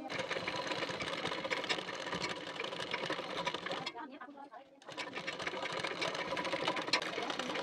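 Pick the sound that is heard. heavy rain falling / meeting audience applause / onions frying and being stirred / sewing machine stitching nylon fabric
sewing machine stitching nylon fabric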